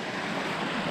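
Rushing stream water along the Colorado Trail, a steady, loud, broadband roar of flowing water heard close by, with no breaks and no voices over the brief moment.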